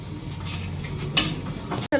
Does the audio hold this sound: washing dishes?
yes